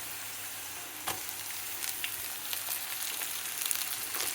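Potatoes are tipped into a hot frying pan and stirred, giving a steady broadband sizzle broken by a few sharp scraping clicks from the spoon.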